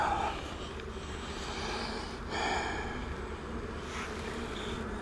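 Honeybees buzzing at the front of a hive during an inspection, a steady close hum that swells and fades a little as insects pass near, alone without talk.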